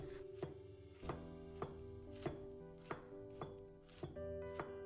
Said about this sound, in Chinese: 把包菜切成丝，包菜的丝尽量切小一点，不要切得太粗